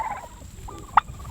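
A homestead turkey gives a brief gobble close by, a short warbling call over low background rumble with one sharp peak near the end.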